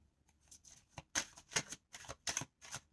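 Tarot cards are shuffled close by in a run of quick papery riffle bursts, about six sharp flurries spaced irregularly over a few seconds, with no talking.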